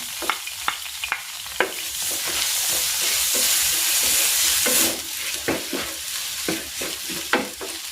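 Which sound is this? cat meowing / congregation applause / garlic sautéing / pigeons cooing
garlic sautéing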